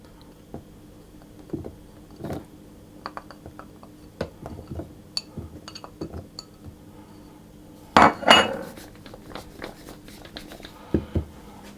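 Butter cubes drop into a food processor bowl with scattered light clinks and taps, then one louder clatter partway through, and a few soft knocks after it.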